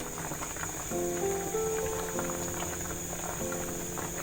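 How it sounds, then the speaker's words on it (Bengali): Rice for egg biryani bubbling in a pot over a high gas flame, a steady low rolling boil with a faint hum running throughout, no voices. "আমি গ্যাসের ফ্লেমটাকে জোরে দিয়ে এটা আমি হতে দিচ্ছি"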